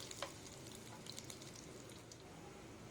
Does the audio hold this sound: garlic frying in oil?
yes